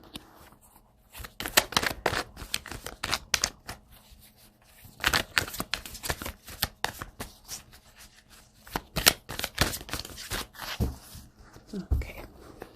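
Tarot cards being shuffled in quick bursts of crisp riffling and slapping, with short quiet pauses between rounds, close and fairly soft.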